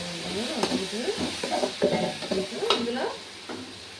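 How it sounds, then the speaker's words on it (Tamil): Tomato, onion and green chilli sautéing in a pan for chicken gravy, giving a close sizzle broken by busy stirring and scraping strokes that come in quick clusters, with no speech. "பாருங்கள் தக்காளி வெங்காயம் பச்சை மிளகா எல்லாம் வதங்குது"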